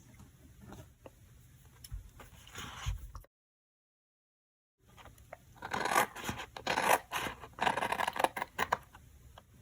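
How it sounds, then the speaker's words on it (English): Scissors cut through card stock along a horizontal score line at close range, a soft rasping snip that builds into denser, louder cutting after a brief silent gap. "So I'm starting with one of these horizontal score lines, and I'm going to cut along it."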